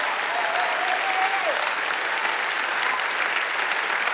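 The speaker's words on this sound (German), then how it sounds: "Können wir für das ihm einen Applaus geben?" Congregation in a church applauding together, dense sustained clapping that stays steady and fairly loud throughout, with a brief rising voice or whoop audible early on.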